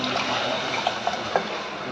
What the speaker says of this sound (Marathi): आपल्या या आळवणीचं पाणी आहे ना ते ओतायचं